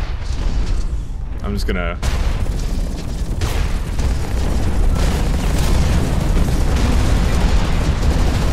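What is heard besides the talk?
rocket explosions in video game Hawken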